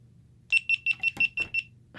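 A GoPro Karma gimbal head powering off gives a rapid run of about seven sharp, high beeping clicks, close and evenly spaced, with a couple of harder knocks mixed in.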